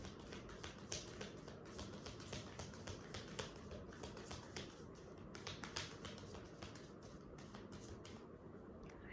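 Tarot cards being shuffled: a faint, steady run of soft riffling taps and light clicks lasts throughout, with no talking.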